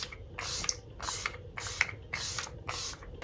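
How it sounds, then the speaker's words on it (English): Rimmel Stay Matte setting spray misted onto a face, six short pumped bursts in an even rhythm, each a close airy hiss with a faint click, separated by brief quiet gaps. "I would just spray my face down, let it dry,"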